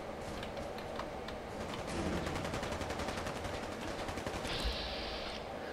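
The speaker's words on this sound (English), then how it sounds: "I want to find the source of this gunfire" Rapid automatic gunfire in the video game Fallout 4, a dense run of sharp, fast-repeating shots that build and hold for several seconds, heard at a moderate distance with no talking over it.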